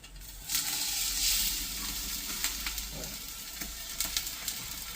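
Onion, carrot and potato sizzling and frying in a pan, a steady crackle with occasional sharper pops and stirring scrapes, close by.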